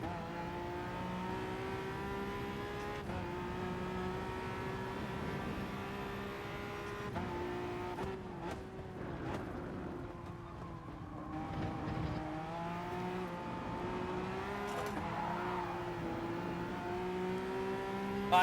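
A race car engine in Gran Turismo Sport drones steadily at a distance, holding a sustained tone with gentle rises and dips through the whole stretch and no voices on top.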